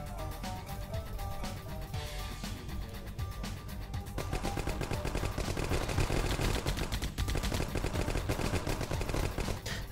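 Rapid automatic gunfire in 9th Company: Roots of Terror, a fast rattling stream of shots that starts moderately and grows louder and denser, continuing steadily to the end over a humming musical background.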